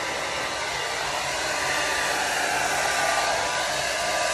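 A hair dryer blows steadily and closely across a canvas covered in poured fluid-art paint, a constant loud whooshing roar that holds without a break from start to finish.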